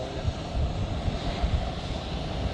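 A Pilatus PC-12 turboprop at Zurich Airport, a steady low engine drone rumbling continuously with a broad airy hiss, moderately loud and unbroken.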